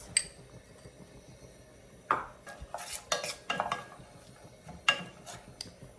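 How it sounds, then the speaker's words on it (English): Chopped onions and about three cloves' worth of garlic go into a pot for minestrone soup, heard as a few scattered clinks and scrapes of a utensil against the pot with quiet stirring in between, close and fairly soft. "We'll start off by adding some chopped onions."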